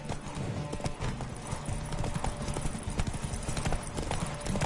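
Roach, Geralt's horse in The Witcher 3 game, gallops in a steady rapid clip-clop of hooves that runs the whole time over a dense game soundscape of music and ambience.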